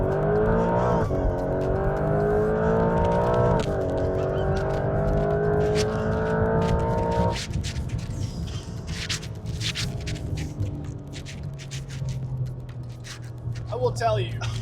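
A Porsche 911 GTS launches hard in Sport Plus mode, engine note climbing loud and steady through a long pull, a sharp gearshift, then a lower, rougher drone as speed builds, with a person talking briefly near the end.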